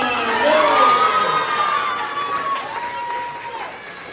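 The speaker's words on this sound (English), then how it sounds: "Can y'all give a round of applause for Zion?" An elementary school award ceremony audience applauds and cheers, with lively shouts and a few voices rising over the clapping before it tapers off.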